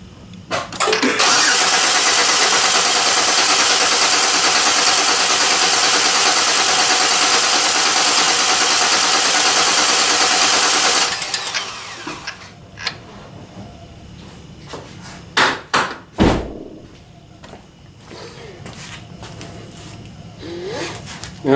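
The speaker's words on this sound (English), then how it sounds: "You'll hear it cranking, so like I say, it takes about 10 seconds of cranking to get to where it's supposed to be." A 2006 Pontiac Torrent 3.4L V6 cranking on the starter during a compression check, a loud rhythmic churning for about ten seconds that then stops, followed by quieter scattered clunks and handling noises.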